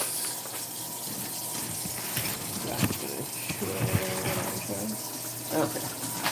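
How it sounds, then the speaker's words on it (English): Tap water runs steadily into a sink while dishes are washed, a constant rushing gush with occasional clinks and knocks of dishware, close and moderately quiet. "And then I'm going to wash out some of these dishes."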